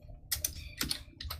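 Bursts of computer keyboard typing during plugin setup for Minecraft Beta 1.7.3, three clusters of quick close clicks separated by brief pauses, with no talking.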